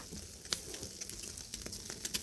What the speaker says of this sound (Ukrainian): Смажиться наша рибка.